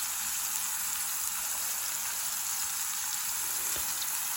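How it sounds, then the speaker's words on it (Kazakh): Brynza cheese fries in a pan as its excess water steams off, giving a steady, even, moderately quiet sizzling hiss that runs continuously without speech. "артық суы буға айналып кеткенше осылай қуырып аламыз"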